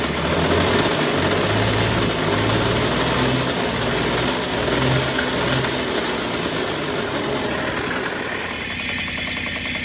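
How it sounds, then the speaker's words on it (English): A Yamaha Chappy two-stroke motorcycle engine runs steadily after restoration, with a dense, buzzy low rumble that holds close and loud for about ten seconds and eases slightly near the end; no one speaks. "that's the right amount of smoke that you should be seeing coming out of a two-stroke, and that's what it should sound like"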